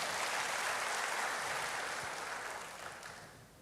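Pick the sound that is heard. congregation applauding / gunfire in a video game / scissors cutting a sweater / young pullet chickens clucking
congregation applauding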